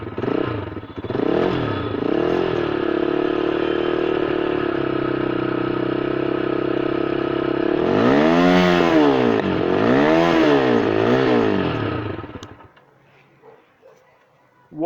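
A Scrambler 250 motorcycle's single-cylinder engine idles with a steady, throbbing thump, rises through several sharp throttle blips and a longer revving burst, then cuts off abruptly into near silence with a few faint clicks.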